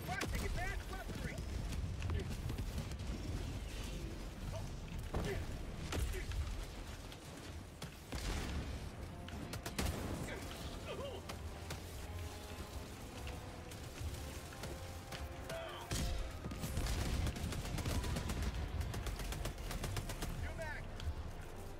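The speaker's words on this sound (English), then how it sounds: "Very satisfying when you shoot commando rocket to the spawner." Video game firefight with commando rockets fired at a spawner, bursts of explosive blasts and rapid gunfire crackling over a dense, noisy battle backdrop, with voices mixed in.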